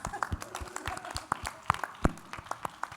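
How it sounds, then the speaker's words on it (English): A small audience applauds a live panel at All Points East, scattered individual claps spaced unevenly rather than a dense roar, moderately close. "Please give them one more round of applause."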